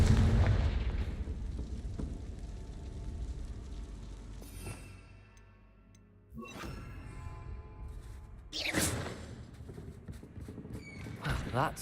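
Confringo fire spell cast in Hogwarts Legacy, a booming blast with crackling debris and rumble, followed by a second sharp burst near the end amid lingering game ambience.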